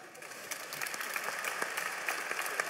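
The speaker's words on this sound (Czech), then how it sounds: "Tak se zaslouží speciální potlesk." An audience at a Czech para hockey panel debate gives a round of applause, with many scattered hands clapping in a steady, moderately loud patter and no voices over it.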